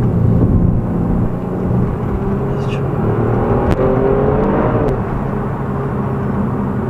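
Kia Stinger GT-S driven hard on a track, a steady loud engine drone heard from inside the car with no pauses in the noise.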